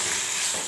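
Tomato pieces and curry leaves sizzle steadily in a hot pan while being stirred, a continuous close frying hiss with faint scraping underneath, no voices.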